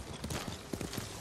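A horse's hooves clip-clop in quick, close, irregular steps in the video game Ghost of Tsushima, with a soft wash of game ambience underneath.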